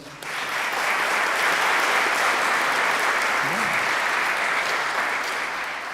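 A crowd at an Eagle Scout ceremony breaks into loud, sustained applause for a scout leader, dense clapping rising quickly and holding steady before easing slightly at the end.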